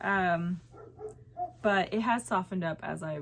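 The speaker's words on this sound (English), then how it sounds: "you can hear my dog barking" A person talks while a dog barks several times in the background, the barks slightly muffled and mixed in with the speech.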